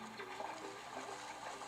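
Flowing, rushing water in a PlayStation 5 game, a faint continuous wash with no distinct splashes, and no one talking.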